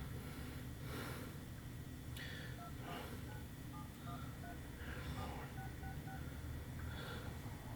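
A Samsung Galaxy S6 phone plays faint keypad dialing tones: a series of short, evenly spaced beeps over a steady hiss, with a little breathing nearby.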